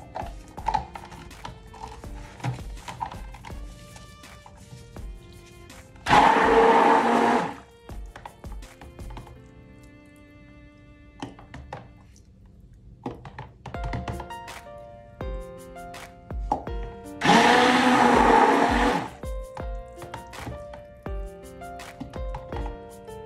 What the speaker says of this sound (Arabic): كنعتذر على الصوت إلى زعجكم ديال الخلاط